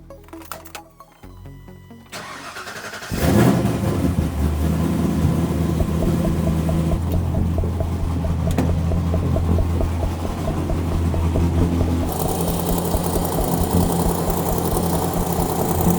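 An engine idles after an oil pan gasket and rear main seal job, starting with a cranking clatter and then settling into a steady, close, even idle drone with a faint ticking, no voices.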